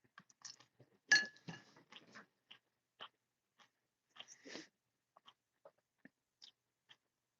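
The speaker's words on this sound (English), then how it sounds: "I'm going to take this off so you don't have to hear me munching." Quiet, close munching and chewing of food with scattered clicks and faint clinks of utensils, intermittent bursts over a near-silent background.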